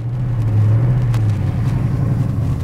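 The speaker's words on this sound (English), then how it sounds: "Listen to that exhaust just hum." A 1966 Chevrolet Chevelle SS396 big block with headers, a four-speed and a points distributor hums through its exhaust while driving, a steady, loud, deep rumble heard from close by.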